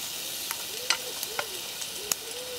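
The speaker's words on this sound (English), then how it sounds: "Once the onion and tomatoes turn soft, let's add the young green jackfruit." Young green jackfruit sizzling with softened onion and tomatoes in a pan over an open fire, a steady soft frying hiss broken by a few sharp clicks of a utensil against the pan.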